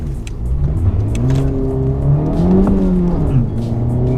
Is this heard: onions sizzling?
no